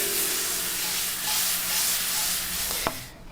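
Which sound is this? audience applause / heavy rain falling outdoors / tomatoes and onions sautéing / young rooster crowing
tomatoes and onions sautéing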